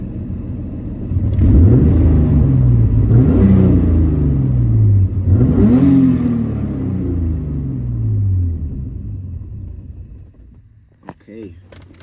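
A 650 hp turbocharged BMW M50 engine restarted while suffering low oil pressure, loud and close, revved in several rising and falling sweeps before settling toward a quieter idle and fading out.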